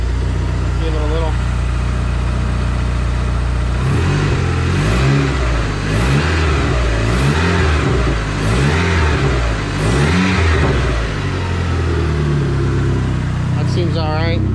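A Dodge SRT4 engine revved in a garage after a throttle cable repair, a steady idle broken by several rising and falling rev bursts in the middle, close and loud, with a voice talking briefly.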